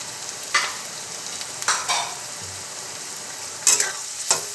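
Ginger sizzles steadily in oil in a pan while cooking ghugni, with about four sharp scraping stirs of a spoon breaking through the frying hiss at irregular intervals.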